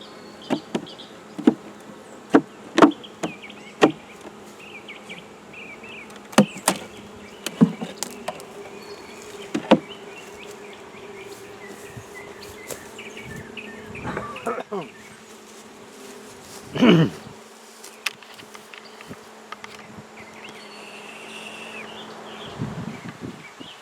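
Honeybees buzz steadily around a beehive, a continuous hum of many bees with individual insects zipping close past the microphone, alongside a few faint knocks and rustles of handling.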